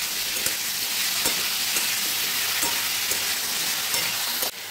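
Pumpkin curry fries in a pan with a steady, loud hiss of sizzling oil while a spoon stirs through it, a few light scrapes and knocks standing out, close up and without voices.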